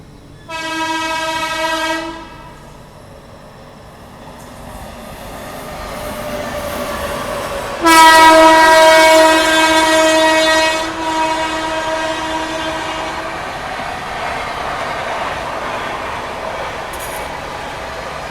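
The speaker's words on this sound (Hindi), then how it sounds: "पीछे से आ रही है महाकौशल एक्सप्रेस वापस से स्पीड अप होके ओवरटेक करने। Full Hawking, full speed." The Mahakaushal Express overtaking at full speed on a parallel track, its loud horn blaring in two long blasts over the steady rumble and clatter of a passing train, close by and with no talking.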